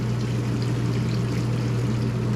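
A shower head sprays water over an RV air conditioner filter, giving a steady, even hiss with a low continuous hum beneath, close and unbroken.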